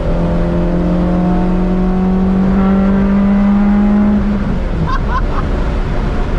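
A Honda Civic's Type R B-series VTEC engine revs high, toward 9,000 RPM, with a rising, sustained tone that then drops off, heard over steady road and wind noise.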